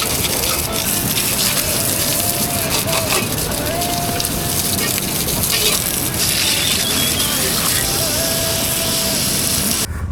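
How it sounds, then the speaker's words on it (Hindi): A small waterfall gushes hard and without a break on a Himalayan mountain route, dense splashing water filling the whole stretch up close. "तो छोटा सा वाटरफॉल था।"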